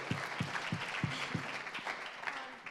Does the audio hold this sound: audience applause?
yes